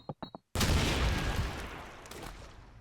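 Gunfire in a competitive shooter video game: a few quick shots, then a loud blast whose rumbling echo slowly fades, with faint background commentary.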